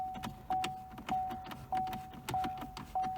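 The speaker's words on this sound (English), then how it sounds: "Apologize for that car bing, that noise there." A 2017 Chevy Cruze's door-open warning chime rings in a steady repeating pattern, about one bing every 0.6 seconds, soft and close, each tone followed by a short sustained ring.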